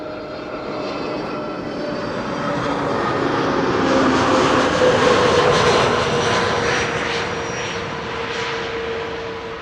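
An EasyJet Airbus A320neo arriving from Malaga at Schiphol swells from a distant whine to a loud, broad engine roar overhead, then holds steady as it passes, with no voices.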